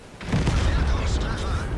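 Single tank cannon shot from an E 50 M in a tank battle video game, a sudden heavy boom that rolls on with a sustained low rumble.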